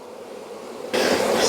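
Honey bees swarm around an open beehive at a new pollination site, their buzzing a faint hum at first that swells abruptly into a loud, dense drone close to the microphone for the final half.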